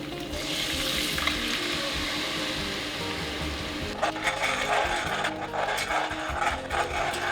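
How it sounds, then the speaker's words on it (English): Soy milk slowly poured into a hot roux for a vegan bechamel sauce. A continuous sizzle turns into busier bubbling and stirring noise partway through. "I'm going to slowly add in the soy milk."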